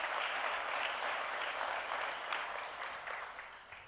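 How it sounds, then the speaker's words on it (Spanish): A church congregation at a Spanish-language service breaks into loud, sustained applause that fills the room evenly and fades slightly toward the end. "denle un aplauso al Señor"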